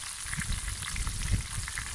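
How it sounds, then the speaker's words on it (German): A blooming onion fries in a Dutch oven over a grill, giving a close, steady sizzle and crackle of hot oil with small popping bursts. "gebt ihr die Zeit, dass sie hier vor sich hin brutzeln kann"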